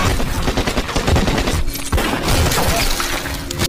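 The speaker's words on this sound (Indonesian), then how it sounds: "beradu tembakan dengan anak buah Kuncai." A rapid gunfight from an action film, dense overlapping shots fired in quick bursts with glass shattering and debris crashing, loud and close throughout with no pause.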